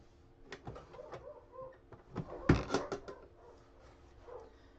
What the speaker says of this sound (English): If you can hear the dogs in the background, ignore them. They're just being cantankerous with each other